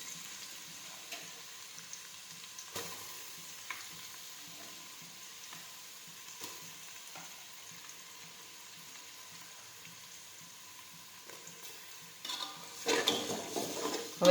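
Onions for pav bhaji sauté in a pan with a faint, steady sizzle, a few soft stirring knocks, and a louder burst of scraping and clatter near the end.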